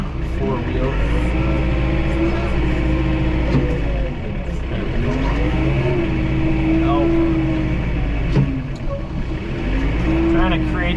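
A tractor in four-wheel drive pushes snow with a rear snow pusher, its engine running loud and steady throughout, rising and falling slightly as it works, with someone talking over it.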